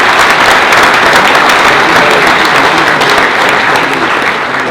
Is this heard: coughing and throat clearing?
no